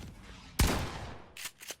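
Fortnite weapon fire: one sharp, loud gunshot crack followed by two quicker, softer shots, close and punchy against a quiet game background.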